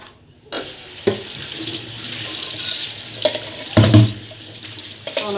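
Tap water runs steadily into a kitchen sink while aluminium dishes are washed, with soft clinks and clatters of pans against the basin, moderately close and without talk.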